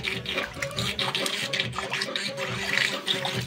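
Water splashes and sloshes near at hand in a steady, continuous wash, with occasional brief spikes of louder splashing.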